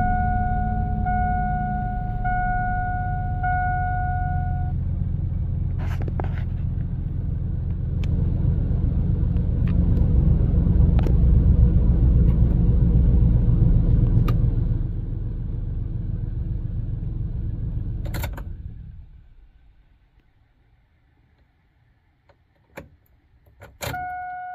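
A car with a P0300 misfire code and no power is started and left idling, a steady low engine rumble that holds for about fifteen seconds, then cuts off, leaving near silence broken by a few small clicks and a short whir.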